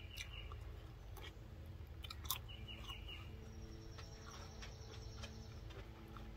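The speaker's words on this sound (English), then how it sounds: "I'm going to go ahead and give it a taste." Someone takes soft, close bites of a purslane, tomato and cucumber salad with bell pepper, radish, olives and walnuts, making faint, irregular crunching and chewing clicks with no talking.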